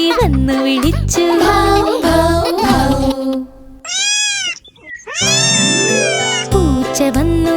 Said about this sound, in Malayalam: പൂച്ച വന്നു പൂച്ച വന്നു